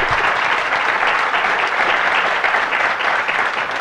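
A closing-ceremony audience at an Internet governance forum applauds steadily and loudly, a dense wash of many hands clapping with no letup for the full stretch.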